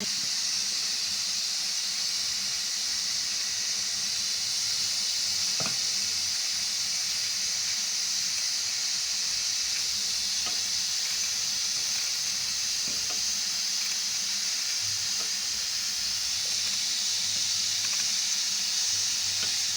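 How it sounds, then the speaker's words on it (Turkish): Ground meat and onion fry in oil with a loud, steady sizzle and hiss throughout, close up, with faint occasional stirring clicks. "soğanıyla kıymasını bir kavuruyoruz."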